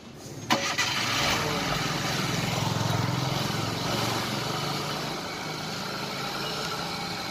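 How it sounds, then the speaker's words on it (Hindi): A vehicle engine filled with diesel in place of engine oil as an internal flush starts with a sharp catch, then runs at a steady, rumbling idle, close and continuous. "ये गाड़ी अभी ऑयल की जगह डीजल तो चल रही है"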